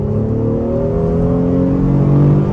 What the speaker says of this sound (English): Try a highway pull. Yeah, it automatically downshifts for us too. And on the gas.